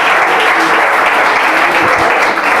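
Loud, dense applause from an audience at an engineering talk on greenhouse gas emissions, held as one steady roar of clapping with nothing else over it.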